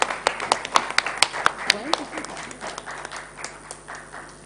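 Audience applause at a livelihoods summit, opening with sharp, distinct claps close by that soon thin into softer, scattered clapping as it trails off.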